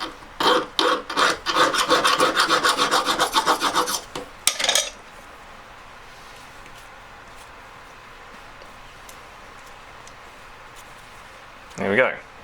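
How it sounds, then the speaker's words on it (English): A hand file rasps across a straight piece of metal clamped in a Chenier vice, with quick, even back-and-forth strokes for several seconds. Near quiet follows, then one more short rasp. "A file over it."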